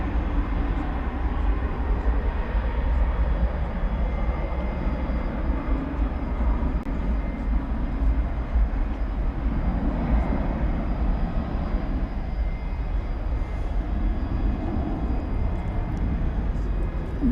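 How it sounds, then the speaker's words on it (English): A United Airlines Airbus A319 arrives from Houston at DFW after dark, its steady, broad engine roar continuous and moderately loud throughout. "2157 coming in from Houston Intercontinental. It's an Airbus A319."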